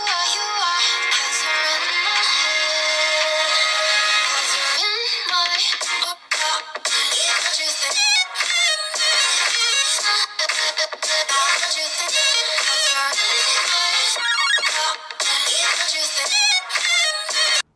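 Music plays through the single bottom loudspeaker of a Moto G22 phone, thin and bright with no bass, loud and continuous with brief dropouts.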